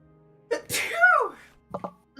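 A single close, sharp human sneeze with a quick inhaled buildup, followed by a couple of short softer sounds in an otherwise quiet room.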